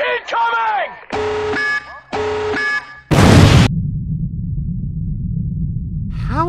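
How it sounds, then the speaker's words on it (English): In the Five Nights at Freddy's 3 video game, a tactical nuke alert sounds as two harsh, even buzzing tones after a short voice at the start, then a loud explosive blast that fades into a low lingering rumble. "Tactical nuke incoming!"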